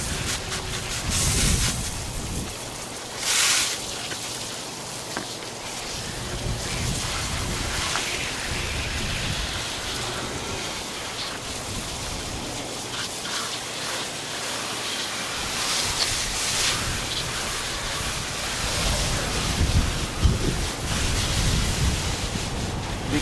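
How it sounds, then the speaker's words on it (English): A garden hose sprays water over the engine bay of a 2017 Hyundai Elantra SE, a steady, broad hiss of spray that runs continuously for over twenty seconds with small surges and no talking. "Now I'm going to get my hose"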